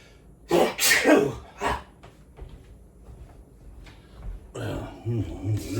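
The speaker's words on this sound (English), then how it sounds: "I'm gonna sneeze" A single sharp, explosive sneeze set off by pepper bursts out near the mic while cooking wings, followed by quieter breathing and some kitchen clatter at the end.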